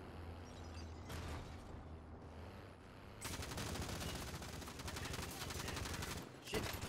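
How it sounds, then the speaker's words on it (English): Rapid gunfire in the Warzone video game, faint at first, then a long dense fusillade of automatic shots that breaks off briefly before a final burst. "I'm putting bullets in them."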